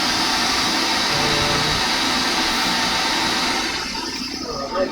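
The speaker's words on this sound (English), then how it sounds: "I'm going to turn on vacuum." Workshop vacuum suction running, a loud, steady broadband roar that holds nearly constant for about four seconds before easing slightly near the end, with no voices.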